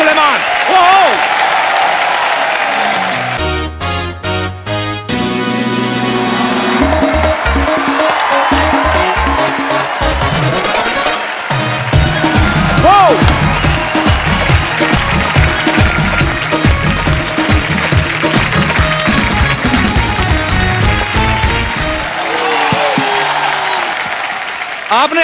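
Studio audience applause on a TV comedy talk show greets music guests, a steady wash of clapping and cheers mixed with loud band music, drum hits and a host's voice.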